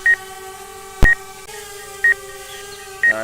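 DJI Mavic Air drone's obstacle sensors, after the drone had been in water, sounding short electronic beeps about once per second over a steady whirring tone, close and clear, with no speech.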